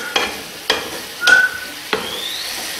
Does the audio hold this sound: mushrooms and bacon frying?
yes